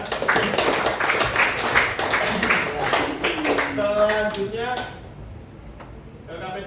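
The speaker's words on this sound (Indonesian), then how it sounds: "Ya, tepuk tangan buat KPD yang kedua" A class applauds in a classroom with dense, fairly close hand clapping for several seconds, then the clapping thins out as a voice speaks over the end.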